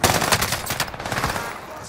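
Rapid automatic gunfire from Call of Duty: Modern Warfare gameplay, a dense burst of repeated shots rattling loudly and continuously for about two seconds, with a faint voice briefly underneath.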